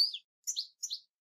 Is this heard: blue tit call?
yes